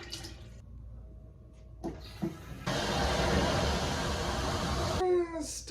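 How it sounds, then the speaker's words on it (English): A toilet that sat unused for three years is flushed with orange Gatorade in the bowl and does not fully drain. The rushing water surges loud and close for about two seconds, with brief voices before and after. "It doesn't flush all the way, like all the water's not going out."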